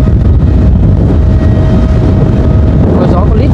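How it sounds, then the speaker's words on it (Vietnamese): Strong wind roars across a flute kite's steel line in the open, a steady loud whirring rush with a faint sustained tone, while people talk over it. "Gió rè dây luôn."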